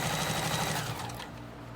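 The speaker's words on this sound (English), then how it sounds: "I will always opt to use the sewing machine if I can." A sewing machine stitches the hem of a fully lined jumper, giving a fast, steady mechanical whir that eases off toward the end.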